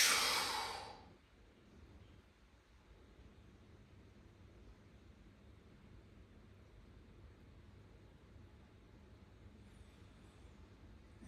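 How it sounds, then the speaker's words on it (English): A strong, forceful breath exhalation during a yoga pumping-breath exercise comes in close and loud at the start, then fades to a long stretch of quiet room hiss. "on the next exhale you can add pumping breath."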